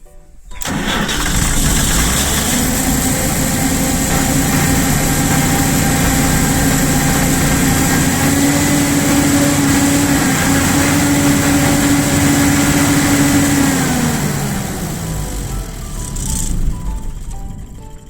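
An Ashok Leyland 125 kVA diesel generator runs steadily and loudly after starting, with a continuous engine drone that holds its pitch before winding down near the end, and no voices.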